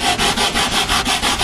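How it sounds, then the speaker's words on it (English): Wooden kaleidoscope body being sanded by hand, a steady rhythmic rasp of about eight even back-and-forth strokes, close and fairly loud with no voices. "And then what we do is we go ahead and we start sanding the scope,"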